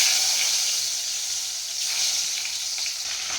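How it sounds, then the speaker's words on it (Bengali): Hilsa fish pieces fry in hot oil with a loud, dense, continuous hiss and crackle, close up and steady for the whole stretch, with no voices over it. "তার জন্য দেখো আমি এখানে ইলিশ মাছগুলোকে ভেজে নেব।"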